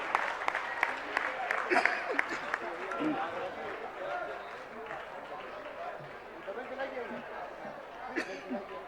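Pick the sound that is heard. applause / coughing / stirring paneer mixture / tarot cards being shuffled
applause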